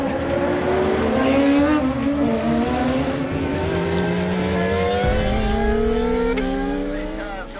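A race car engine revs hard on the Victoria Park circuit at the Adelaide Motorsport Festival, its loud rising and falling pitch sweeping through several gear changes close by, with a faint tire squeal and no talking.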